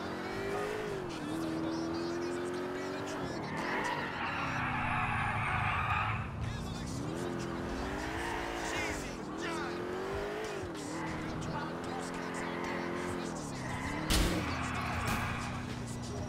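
A police car in Grand Theft Auto IV revs and swerves with repeated tire squeals and skids, its engine pitch rising and falling throughout, with game sound effects and a voice talking over it.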